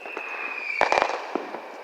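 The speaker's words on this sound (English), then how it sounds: "see some fireworks?" Fireworks going off in the distance near an abandoned, torn-down train station: a few dull pops and a short crackling cluster over a steady high background hum.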